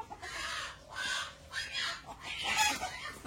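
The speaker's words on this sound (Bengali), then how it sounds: "অন্য একটা মোরগের আওয়াজ শুনে চলে আসলো" A rooster at a livestock market crows and clucks in several short, hoarse bursts, fairly faint and somewhat distant, with no talk over it.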